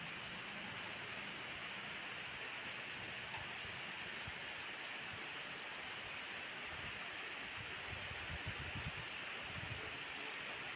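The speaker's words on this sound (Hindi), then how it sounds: "तेज हो रहा है बारिश।" Heavy rain pours steadily on a road in Dhanbad, a dense, even hiss of falling water without pause, with occasional louder spatters near the end.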